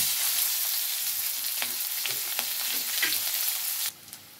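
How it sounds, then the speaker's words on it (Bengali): Onion fries in a pan with cinnamon and bay leaf for a curd and katla fish curry. A steady close sizzle carries a few soft stirring clicks, then stops abruptly near the end. "এবার পেঁয়াজটা দিয়ে দেব।"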